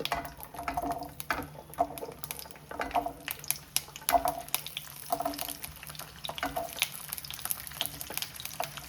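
Small sambar onions drop into hot mustard oil in a pan, producing a quiet, uneven crackle and bubbling with scattered sharp pops and a few scraping stirs, fairly faint and without talk.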